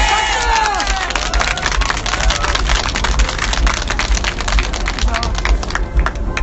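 Crowd at a candlelight rally in Gwanghwamun breaking into dense, loud applause and cheering, sustained clapping throughout with a few raised voices mixed in.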